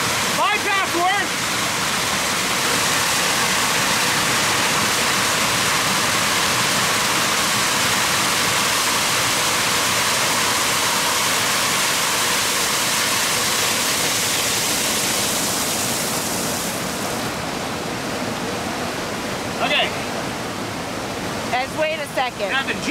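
Water rushes steadily through the bypass of an off-grid micro hydro setup, a loud, continuous roar that dominates for most of the stretch before easing near the end, with brief voices breaking in at the edges.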